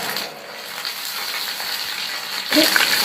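Onions, coconut, dried chilies and spices sautéing in a hot pan for Kerala kizhi porotta, a steady close sizzling hiss that grows brighter near the end, with no voices.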